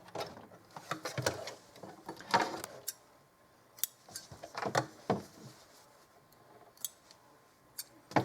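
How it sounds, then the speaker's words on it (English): Scissors trim the tabs off a zippered pouch sewn from a placemat, with a metal zipper stop nearby: several sharp snips and clicks come up close in irregular bursts, with quieter handling noise between them. "I want to trim these tabs off"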